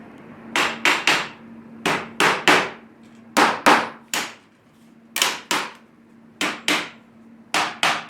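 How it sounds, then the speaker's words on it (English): Sharp hammer taps driving slides into the notches of a DIY hot-wire CNC frame, coming in close, loud pairs and triplets of woody knocks separated by short pauses, with a faint steady hum beneath and no talking. "use a hammer to tap in the slides"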